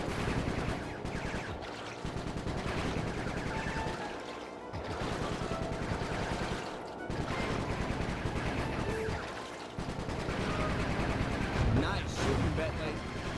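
Bentley's gun firing in the video game Sly 3, a steady, rapid stream of shots with brief pauses between bursts, running loud and close under talking voices.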